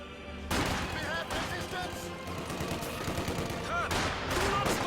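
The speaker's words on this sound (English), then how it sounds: "Snipers working on this engagement in the south." Rapid sniper and small-arms gunfire crackles through a World War II strategy game battle with Panzer Grenadier squads, steady sharp shots layered over dense battle noise while a commentator talks throughout.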